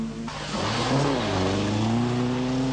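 Group 4 Vauxhall Chevette rally cars from the 1983 Circuit of Ireland, heard as loud engines driving past close by, one shifting tone into the next as they go by, with no talk.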